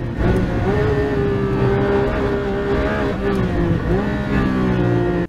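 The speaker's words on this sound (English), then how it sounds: "he's going back on the gas again, but the acceleration is not that really noticeable." Porsche 992 GT3 RS accelerating on the Nürburgring, a loud, steady high-revving engine note with rising harmonic tones held throughout, close and continuous with no talk.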